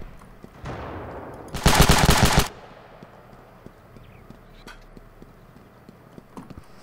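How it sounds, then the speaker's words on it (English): A sharp burst of automatic gunfire rings out in the video game Ravenfield, loud and lasting under a second, followed by a few scattered faint shots against a quiet background. "Somebody's shooting."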